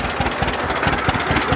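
A 1937 unstyled John Deere A tractor engine idles close by, its steady mid-low chugging marked by regular firing pulses and a rough, slightly knocking rhythm throughout.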